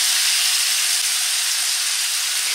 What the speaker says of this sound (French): je vais les arroser avec la marinade pendant toute la cuisson